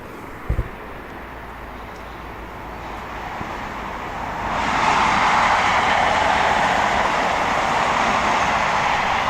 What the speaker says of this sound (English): A yellow train.